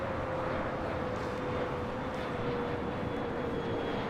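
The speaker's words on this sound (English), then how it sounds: "787-9 Dreamliner heading to the southeast corner of Tom Bradley" A Japan Airlines Boeing 787-9 Dreamliner taxiing at LAX toward the southeast corner of Tom Bradley terminal gives a steady, distant broadband jet rumble with a faint whine held throughout, no talking.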